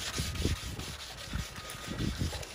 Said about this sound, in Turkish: zımparamızı yaptık